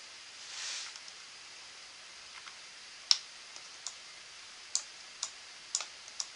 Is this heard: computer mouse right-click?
yes